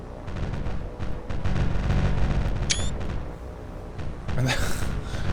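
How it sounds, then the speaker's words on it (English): Anti-aircraft flak fire in a naval warfare game: a dense, continuous rumble of distant guns and bursts, with a few sharper cracks and a brighter blast near the end. "It's a wall of flak that these guys are moving into"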